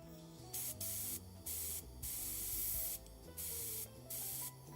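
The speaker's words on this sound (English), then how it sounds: "This is what I like to do before I use the airbrush, as I just put water in there." An airbrush loaded with plain water sprays in a series of sharp hissing bursts, mostly short with one longer pull, separated by brief silences and heard close up.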